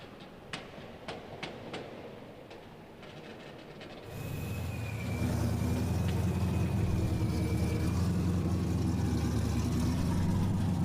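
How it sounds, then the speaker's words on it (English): A drift car warms its tyres at the start line of the Emirates Drift Championship at the Yas Marina F1 track. Its engine roar swells after a few scattered clicks into a loud, steady, close rumble with a thin whine above it. "Moyad Hamad warms tyres and gets himself to the line"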